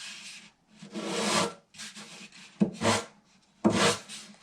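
A coarse sanding block rasps flat across wooden guitar binding in a few short, close strokes with brief pauses between them, and no talking.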